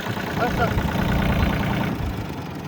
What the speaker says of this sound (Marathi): हा कोणता ट्रॅक्टर आहे जॉन डिअरचा आहे छोटा ट्रॅक्टर आहे